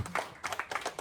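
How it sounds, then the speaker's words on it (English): Hands clap in a quick, sharp burst from a small audience at a live comedy panel show, six or seven distinct claps over about a second, fairly faint and with no talk. "A round of applause for Aaron, please."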